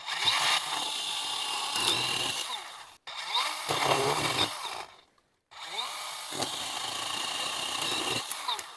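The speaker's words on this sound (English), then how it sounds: "just let the saw do the work and it's really not that heavy" A DEWALT DCPS620 cordless 8-inch pole saw whines steadily while chewing through tree branches, with short pauses between cuts and a brief silence midway.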